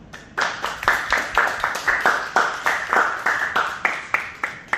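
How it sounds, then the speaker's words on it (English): Sparse, rhythmic clapping from a small Toastmasters club audience, individual hand claps distinct and close, steady and moderately loud without building into full applause. "I would like you all to give a big round of applause to CA Toastmasters Club"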